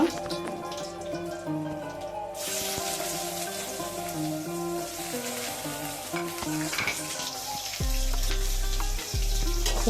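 Onion and green chili frying in oil alongside whole cumin, cardamom, bay leaf and cinnamon, a steady close sizzle with stirring scrapes and a brief louder low thump near the end.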